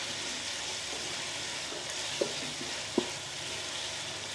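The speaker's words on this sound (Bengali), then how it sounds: "আমি এটাকে কিছুক্ষণ ভেজে নিব, মশলাটাকে কষিয়ে নিব।" Chicken biryani spice paste frying in oil in a pan, a steady broad sizzle throughout with a couple of brief clinks of a stirring utensil.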